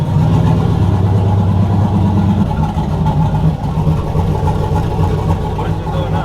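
A loud Ford OBS truck engine with an exhaust leak runs close by, its rough, throaty idle punctuated by uneven puffing and a slight rise in revs partway through.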